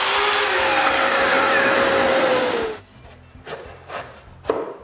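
Wooden separators for drawer organizers are cut with a power saw, a loud steady whining roar running for nearly three seconds before stopping abruptly, followed by a few quieter scattered knocks and rubbing sounds.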